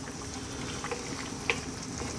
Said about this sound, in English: Lower the heat to a simmer.